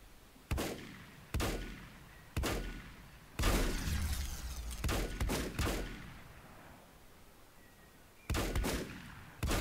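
Gunfire from a weapon in the video game Volcanoids: a series of sharp, loud shots at irregular intervals, some clustered close together, with decaying echoes between them and no talking.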